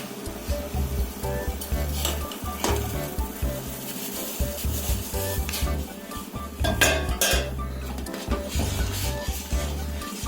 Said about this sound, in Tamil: இப்போ நம்ம சளிச்சு வச்சுருந்த இந்த குருணையை மட்டும் ஃபஸ்ட்டு போட்டுக்கலாம்.